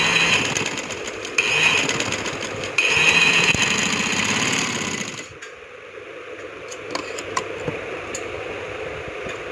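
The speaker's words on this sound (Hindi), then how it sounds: "एक साइड फोल्ड करनी है हमने, और ऊपर से किनारे की सिलाई लगाते जाना है।" Sewing machine stitching the folded edge of a trouser, a steady close mechanical whir that drops to a quieter hum partway through.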